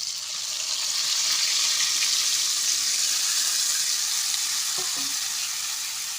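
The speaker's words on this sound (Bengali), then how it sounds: "এখন মশলাটা ঢেলে দিচ্ছি, মশলার জল" Spice water poured over lightly fried hilsa fish in a pan makes a loud, continuous hiss and sizzle up close, with a brief clink of a utensil near the end.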